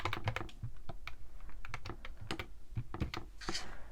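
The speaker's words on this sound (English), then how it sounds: "I'm going to quickly bring my calculator out so I can calculate how much I spent in my cash envelopes" Calculator buttons are pressed in quick, irregular runs of light clicks close by, with short pauses between bursts and no talk.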